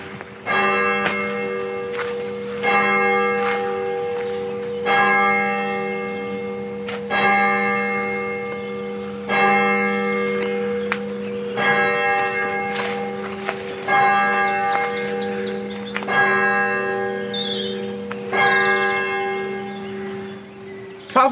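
Church bells ring from a timed ringer at exactly noon, a steady peal of repeated strikes with long overlapping resonance, loud and continuous throughout with no talking.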